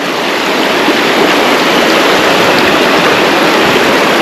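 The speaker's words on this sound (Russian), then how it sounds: "Тут поток сужается, и как горлышко бутылки, сила воды набирается." Fast, rushing water of the Psezuapse mountain river near Lazarevskoye, Sochi, roars steadily and loudly where the channel narrows, a dense broadband churn with no pauses.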